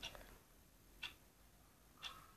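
Ticking from the SCP-902 box in Minecraft: three faint, sharp ticks spaced about a second apart over a quiet background.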